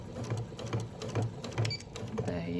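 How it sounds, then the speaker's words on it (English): A sewing machine stitches back over its first few stitches, running steadily with a quick, even mechanical rhythm close by. "I'm going to sew over my first stitches by maybe 3 stitches."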